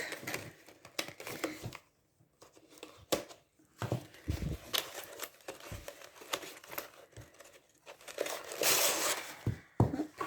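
Plastic packaging crinkles and crackles in irregular bursts as a knife cuts it open, close and fairly quiet, with short pauses between rustles and a louder tearing crinkle near the end.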